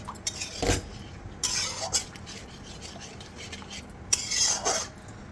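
A utensil stirs capsicum paneer curry in a pan, making close scraping and clinking strokes in irregular bursts over a soft background hiss, with no talking.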